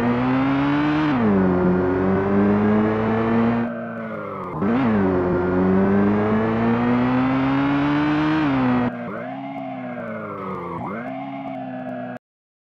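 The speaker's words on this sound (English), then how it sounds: "Hit play and the car will be spawned and you can drive and race." A racing car in a Unity racing game roars loudly with engine pitch climbing and dropping through gear shifts, cut by brief gaps before revving again, all close and dominant with no talk.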